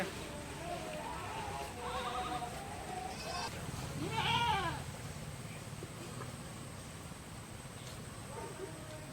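A goat bleats once, a wavering nasal cry in the middle of a rural outdoor scene, heard under steady background hiss and occasional people talking.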